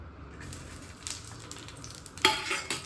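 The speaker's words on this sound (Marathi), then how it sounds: "आपण मिरची टाकली आहे। मंद आचेवर चांगली भाजून घ्यायची आहे।" Green chillies sizzle and crackle in a little oil in a pan over a low flame, with a steady close hiss and a sharp flare of spitting near the end, no voices.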